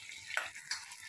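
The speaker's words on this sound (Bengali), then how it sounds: "ভেজে নিচ্ছি।" Onion and potato pieces fry in a pan with a faint, soft sizzle. A couple of brief stir-like crackles stand out in the quiet home-kitchen background.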